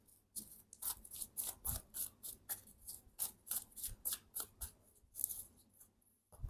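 Tarot cards riffled and shuffled in quick repeated bursts of crisp papery flutter, close and fairly quiet, with brief pauses between the rhythmic shuffles.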